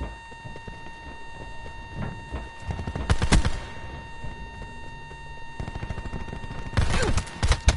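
Rapid bursts of video game gunfire crackle in a steady stream, with a few louder, heavier volleys standing out against a constant electronic background.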